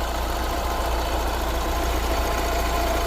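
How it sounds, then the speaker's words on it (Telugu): Diesel Hyundai i20 car engine idling, a steady, close low rumble with a faint knocking texture, continuous and even with no talk. "ఇంజిన్ సౌండ్ అయితే మనకి ఈ విధంగా ఉందండి"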